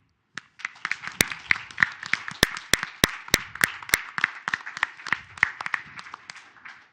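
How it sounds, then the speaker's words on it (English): Audience applause for panelists at an investment outlook session: many hands clapping steadily for several seconds, with a few sharp, close claps standing out above the broader patter. "I would like a big round of applause for our panelists."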